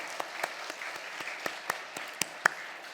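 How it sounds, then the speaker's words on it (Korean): Congregational applause for a guest pastor at the close of a church worship service at a winter retreat, scattered claps forming a steady, moderately loud round with no talk over it. "감사의 박수 한번 올려드리겠습니다."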